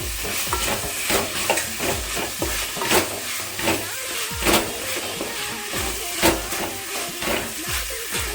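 Tomatoes sautéing in a pan for beef masala give a steady, close sizzle and hiss, broken by repeated scraping stirs and clinks of a spoon against the pan at an uneven rhythm.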